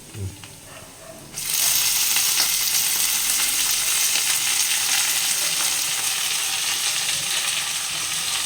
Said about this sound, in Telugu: ఇప్పుడు పోపు మగ్గింది, అందులో వేస్తున్నాం